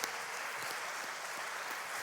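A church congregation breaks into strong, sustained applause, a dense, even wash of clapping from many hands that holds steady throughout.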